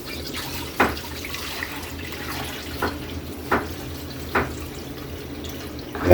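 Rice-washing water poured into a pot for heating, cooking sinigang with kanuping fish: soft liquid splashing with a few brief drip-like splashes over a low steady background, no talk.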